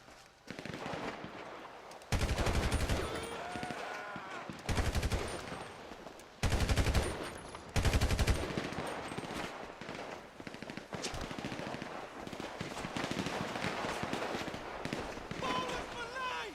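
Bursts of automatic gunfire erupt in Grand Theft Auto, loud rapid volleys with breaks between them, set against dense game noise, with a voice shouting over the shooting.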